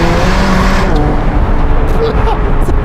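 A McLaren 720S Spider fitted with a Novitec exhaust roars loud and steady throughout, a continuous close engine drone with a faint higher whine in the final second.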